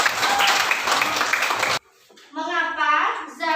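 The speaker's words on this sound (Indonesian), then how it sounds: "beri tepuk tangan untuk Rizal Fahri." A primary school class breaks into brisk clapping for a classmate, dense and lively for under two seconds before stopping abruptly, followed by someone speaking.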